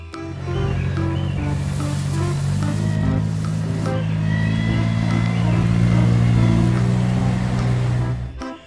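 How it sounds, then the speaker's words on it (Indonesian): Street sweeper vehicle in a toy or model vehicle demonstration, giving a steady engine-like rumble and whirring hum that runs continuously for about eight seconds at moderate loudness, with no speech over it. "mobil penyapu jalan."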